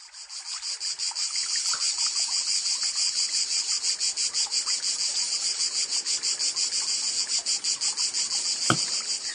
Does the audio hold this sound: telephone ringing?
no